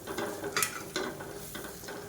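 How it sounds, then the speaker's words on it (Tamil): Ginger garlic paste and masala sautéing on medium flame, a few distinct spatula scrapes against the pan over a steady light sizzle, close and moderately loud, no voices. "இப்போ மீடியம் ஃப்ளேமில் இதை வதக்கி விட்டுக்கலாம்"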